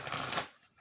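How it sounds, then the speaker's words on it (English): Oracle cards riffled in a single quick shuffle, a short dense papery flutter that cuts off abruptly, close and alone. "I'm just going to do a quick shuffle."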